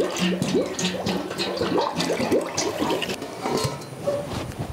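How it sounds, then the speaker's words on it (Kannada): Water is poured into a cooking pot ahead of boiling rice for lemon rice, a steady loud splashing stream with gurgling bubbles running throughout, with no voices. "ಈಗ ಅನ್ನ ಬೇಯಿಸಲಿಕ್ಕೆ ನಾನು ನೀರನ್ನು ಹಾಕಿಕೊಳ್ತೇನೆ"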